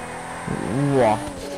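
Toyota Supra engine in the GTA 5 video game, a brief rising rev that swells and fades within under two seconds, fairly close and clear over a steady background hum.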